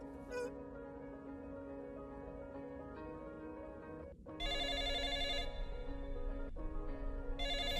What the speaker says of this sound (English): Yes, when the phone rings, one answers it.